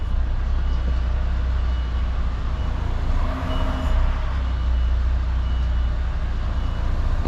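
A truck reverses a trailer into position, its diesel engine idling as a heavy, steady low rumble, close and continuous throughout, with no talk.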